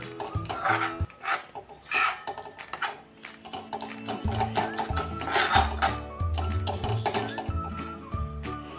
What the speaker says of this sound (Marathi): त्या साखरेचा पूर्ण कलर बदलेपर्यंत आपण आता ही एकसारखी अशी हलवून घ्यायची आहे।